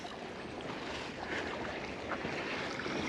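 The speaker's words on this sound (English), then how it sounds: "That brook, boy, she likes to talk, don't she?" A babbling brook on a backcountry hiking trail, heard as a steady, broadband rush of flowing water with a faintly gusty texture, filling the whole moment without any voices.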